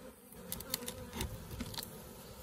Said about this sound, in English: I've got plenty of bees in there still.